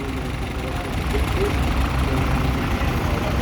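A restored small Case petrol tractor idles nearby at an outdoor old machinery show in Australia, giving a steady, loud low rumble throughout.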